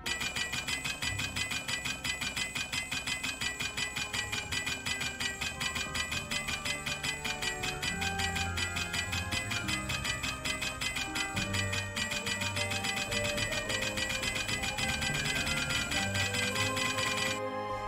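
Rapid, continuous metallic clanging of a smithing hammer in the video game Mount & Blade II: Bannerlord, striking in a steady rhythm, ringing bright and busy for the whole stretch with no speech.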